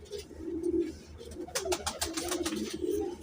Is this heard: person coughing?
no